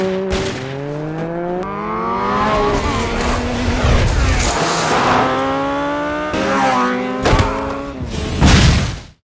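Motor scooters chasing each other in an action film, engines whining and rising in pitch through repeated revs, with tire squeal and passing roars in the middle of the scene.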